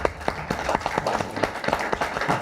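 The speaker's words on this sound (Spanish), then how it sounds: "Un aplauso." A lecture audience at a religious brotherhood talk breaks into steady applause, many hands clapping in a dense, moderately loud patter that carries on throughout.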